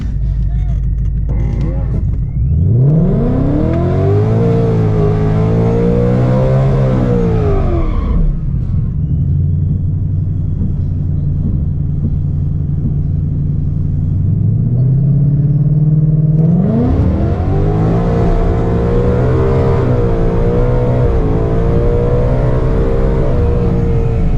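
Supercharged Ford Mustangs, one running a 100mm pulley on fresh street tires, launch at a dragstrip: a loud close engine idle rumble rises into two long rising wails of acceleration, separated by a lower idling stretch.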